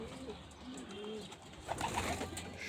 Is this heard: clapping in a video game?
no